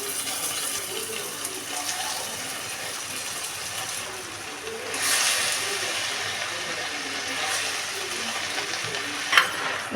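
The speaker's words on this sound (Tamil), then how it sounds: "இது நல்லா சுண்டுற அளவுக்கு வதக்கி விடணும்." Washed drumstick leaves stirring and sizzling in a hot pan with no added water, a soft steady frying hiss with brief louder scrapes, fairly quiet and without voices.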